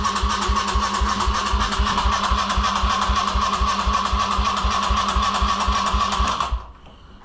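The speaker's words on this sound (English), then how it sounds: "Right now, hit the switch, clutch in, go to start it." Kawasaki motorcycle engine cranking without starting: a loud, steady, rapid rhythmic whirring of the starter turning the engine over for about six seconds, then cutting off abruptly into near silence.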